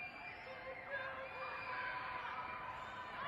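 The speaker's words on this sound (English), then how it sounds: "所有人都在叫" Recorded crowd of thousands screaming and yelling together, a faint, distant, sustained wash of high-pitched shouting played back at low volume.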